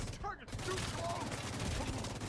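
Rapid video-game gunfire from The Division 2, a dense burst of shots running nearly continuously at moderate loudness while someone talks over it.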